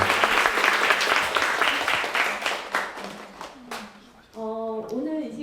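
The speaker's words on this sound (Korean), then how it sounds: "오늘 지금까지 같이 해주신 김영하 작가님께 다 박수 한번." An indoor lecture audience applauds author Kim Young-ha with sustained clapping that gradually thins and fades, then a host begins speaking over the last scattered claps.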